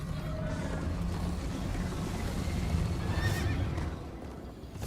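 A horse whinnies amid a continuous rumble of galloping hooves in Minecraft: Story Mode, with a second high neigh near the end, all fairly close.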